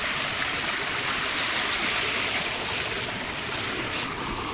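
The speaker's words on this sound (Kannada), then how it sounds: "ಇಲ್ಲಿ ನೀರು ಹೋಗ್ತಿದೆ." Water from a forest stream flowing near a dam, a steady broadband rush that stays loud and close throughout with no talk over it.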